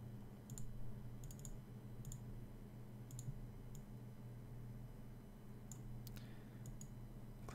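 A computer mouse is clicked several times at irregular intervals against a low background hum, with no talk.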